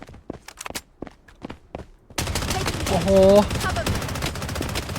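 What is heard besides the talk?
gunfire in a video game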